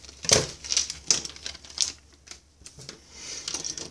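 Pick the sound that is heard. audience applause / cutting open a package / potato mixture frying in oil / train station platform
cutting open a package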